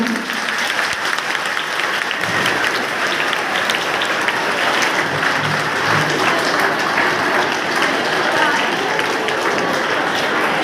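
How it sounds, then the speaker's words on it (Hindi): Students clapping loudly at a school Children's Day assembly, a dense continuous burst of applause from a large group that holds steady throughout, with a few voices faintly audible underneath. "एक बार उनके लिए जोरदार तालियां हो जाए।"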